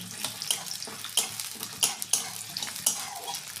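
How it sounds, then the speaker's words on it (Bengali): Sliced onion frying in hot oil in a pan used earlier for fried lote fish, a steady crackling sizzle broken by a series of sharper scraping stir strokes, close and moderately loud, with no talking. "পেঁয়াজটা একটু লাল লাল করে ভেজে নেব"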